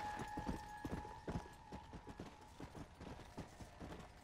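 Rhythmic horse hoofbeats in the video game Red Dead Redemption: Undead Nightmare clop at a steady trot, faint and slightly distant, with a faint tonal hum in the background.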